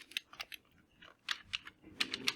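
Quick bursts of typing on a computer keyboard, clustered key clicks in short runs separated by brief pauses, close and fairly quiet with no talking.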